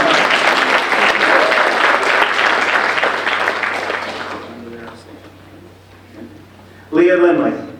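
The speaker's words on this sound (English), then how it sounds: "You can clap." Audience clapping at a high school senior awards ceremony, a loud burst of applause for about four seconds that dies away, then a voice speaks briefly.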